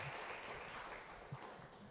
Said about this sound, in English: If you really enjoyed, you're most welcome to clap